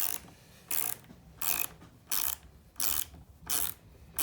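A mini ratchet tightens a bolt in six evenly spaced bursts of rapid, close clicking, with quiet pauses between strokes.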